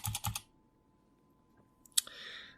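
Keys typed on a computer keyboard while entering a search into Google: a quick burst of clicking keystrokes at the start, then near silence, then a sharp click and a brief soft rush near the end.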